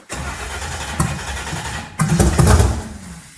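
An off-road car in a garage cranks and fires up, then the throttle is blipped, giving a loud close engine roar that surges twice before settling.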